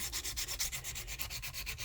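Sandpaper rubbed by hand across an engine cylinder head during a valve job, producing quick, steady back-and-forth scraping strokes, close and alone.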